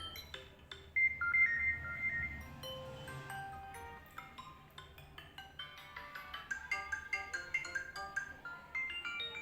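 A series of different phone system ringtones play in turn, chiming electronic melodies and beep patterns, the later ones quicker and more rhythmic, with no talking.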